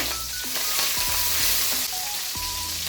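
Green chillies and onion paste frying in oil for a Telugu okra and fish curry, a steady close sizzle with scraping stirs and short spoon knocks against the pan.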